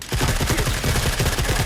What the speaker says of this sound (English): Tank battle happening.